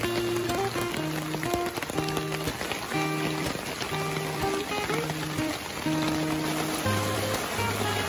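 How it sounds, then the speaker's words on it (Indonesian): Heavy rain pours onto a bamboo shelter roof beside a river as a constant dense hiss, heard under a steady melodic music track that plays over it. "tiba-tiba saja hujan pun turun begitu derasnya"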